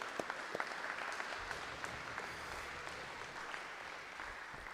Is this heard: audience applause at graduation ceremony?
yes